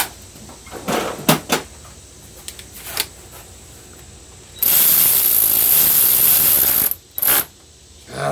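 A Milwaukee powered ratchet removes bolts on a Kubota ZD28 mower, giving a few short clicks and bursts before a loud, sustained whirring run of several seconds, then two brief final spins.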